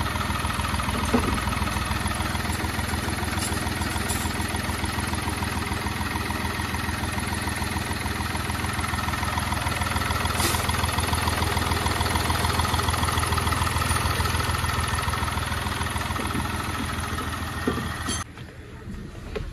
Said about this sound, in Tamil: இந்த இன்ஜினை நான் அசம்பிள் பண்ணி அதில் ஸ்டார்ட் பண்ணி